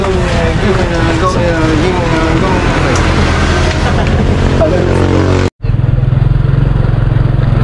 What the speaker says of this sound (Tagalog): we are ready to ride in a motorcycle and going to the side.